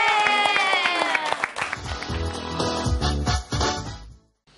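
Audience applause at a children's event for scouts, a loud burst of clapping mixed with singing and cheering voices that fades out abruptly near the end.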